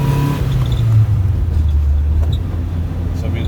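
A Saab 96 Deluxe with a V4 engine picks up speed after coasting in third gear on a test drive. It gives a loud, close, continuous engine drone, its pitch sliding down and then holding steady under road rumble.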